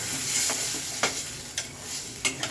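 Steady frying sizzle of spices in a pan with water, punctuated by about five sharp scraping strokes of a spatula at uneven intervals; no voices.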